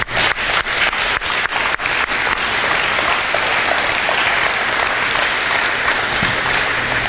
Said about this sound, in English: now give each other a big round of applause.